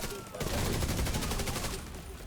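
Gun turret in a video game firing a rapid, even stream of shots that starts abruptly after a brief lull and keeps going steadily, loud and close.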